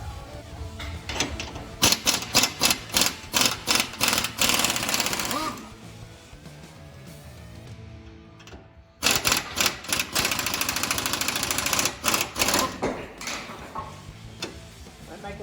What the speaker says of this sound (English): Now we rip these U-bolts off.